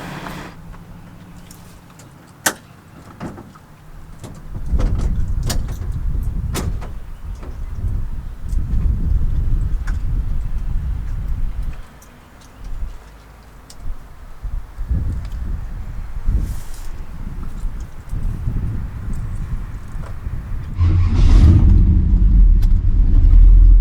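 A custom 1929 Ford Model A hot rod rumbles through a low engine idle with door and handling clunks, then surges louder as it pulls away, with a loud throaty engine swell near the end.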